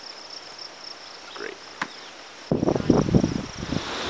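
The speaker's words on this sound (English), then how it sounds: "to wake up to the sound of the crickets and the bright sun in this big field" Crickets chirp steadily across a big open field on North Manitou Island on a bright morning, a thin continuous trill in the background while a person speaks briefly and rustling movement picks up near the end.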